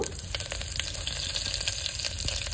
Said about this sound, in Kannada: ಸಾಸಿವೆ ಮತ್ತೆ ಸ್ವಲ್ಪ ಜೀರಿಗೆ ಹಾಕ್ತಾ ಇದ್ದೀನಿ